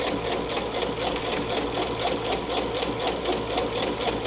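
A sewing machine runs steadily, top stitching along a half-inch line on a jacket, its rapid needle chatter continuous, close and loud with no talking throughout.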